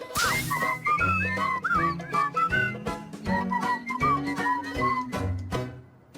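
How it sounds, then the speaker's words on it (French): Bright melodic whistling runs through a cartoon song, weaving short phrases over a bouncy band accompaniment with steady percussion, loud and close throughout. "Tout le monde peut siffler, crois-moi camarade."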